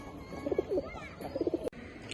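Giribaz pigeons of the Palla line in a loft, giving two soft bouts of low cooing, then a sharp knock and faint background rustle.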